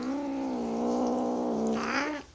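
An upset calico cat lets out a single drawn-out, wavering meow, close and fairly loud, rising into a strained whine at the end before cutting off.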